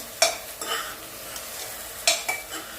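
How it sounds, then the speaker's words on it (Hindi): Vegetables stirred in a hot pan for a rural-style Indian breakfast: two sharp bursts of spoon scraping over a steady low sizzle, each trailing into softer shuffling, no voices. "अब इसको अच्छी तरह से चला देते हैं। सब्जी मैंने डाल दी है।"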